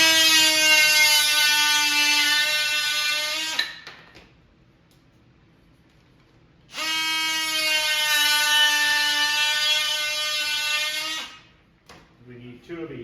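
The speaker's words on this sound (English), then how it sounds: "Just going to use my DeWalt multi-tool here just to cut these down to size." A DeWalt oscillating multi-tool cuts pieces to size during a Tapper arcade cabinet restoration, giving two long, loud, steady buzzing runs separated by a pause of silence, with small clatters afterward.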